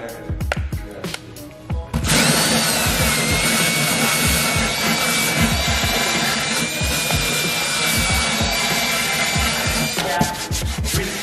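A harsh whirring grind of a spinning drill-mounted wire wheel against a car's clear coat, continuous and loud after a few scraping starts, no talking.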